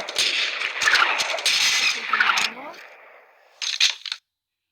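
Gunfire in the zombie mode of the mobile shooter Special Forces Group 2: loud, dense bursts of shots for about two and a half seconds, then a brief pause and a shorter final burst, close and punchy.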